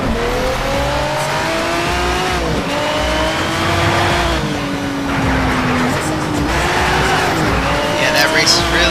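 McLaren F1 race car launching off the line and accelerating in the Need for Speed Shift racing game: loud, continuous engine roar rising through repeated gear shifts, with tire squeal, while a voice talks over it.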